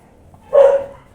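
A single short dog bark, fairly close, against a quiet background.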